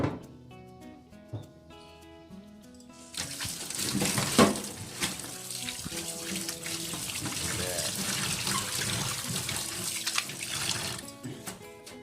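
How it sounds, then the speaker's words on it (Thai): Water runs steadily from a tap into a sink while vegetables are washed, a broad splashing hiss that starts suddenly and continues with occasional clatters of handling; background music plays underneath. "แล้วเราก็มาเตรียมผักล้างผักนะครับ"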